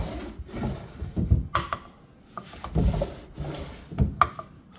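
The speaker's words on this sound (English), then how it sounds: "Well, the drawers slide smoothly." Wooden drawers on an antique Japanese mizuya tansu kitchen chest slide in and out several times, making close, soft rubbing scrapes that end in light wooden knocks, with no talking.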